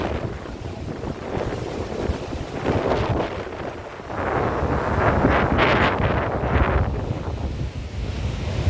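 Rough sea waves crash and churn under gusting wind during Hurricane Beryl in Barbados, a continuous close roar with wind buffeting the microphone that swells louder midway through.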